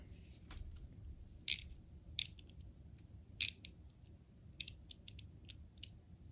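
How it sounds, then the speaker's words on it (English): A 7mm wrench tightens a grease fitting on a Ford Super Duty truck U-joint, giving sharp metallic clicks and ratchety ticks at irregular intervals, close and fairly quiet over a low rumble. "Using a 7mm to make sure that was tightened"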